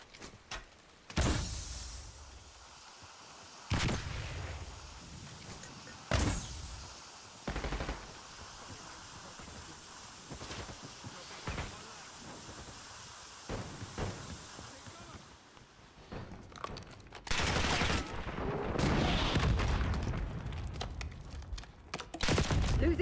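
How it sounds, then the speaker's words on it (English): Sniper gunfire in the multiplayer video game Black Ops 6: sharp, separate cracks spaced several seconds apart, then heavier, denser firing toward the end, with faint in-game voices underneath. "Snipers firing."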